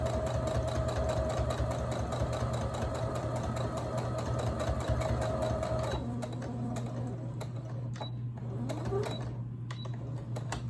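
A sewing machine runs steadily, stitching a back stitch on a St. Patrick's Day placemat, with a constant motor hum that changes pitch and drops a little quieter partway through, joined by a few faint clicks.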